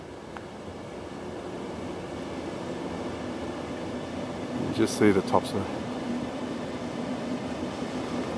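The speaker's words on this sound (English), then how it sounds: "There's the train now." A train passes near the Boronia No.5 railway tunnel, a steady low rumble of rolling wagons under continuous broadband noise, with a few brief sharper clatters in the middle while a person talks.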